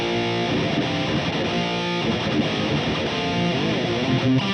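Distorted electric guitar through an amp modeling pedal plays chords and riffs with a thick, saturated amp tone, loud and continuous, with no voices.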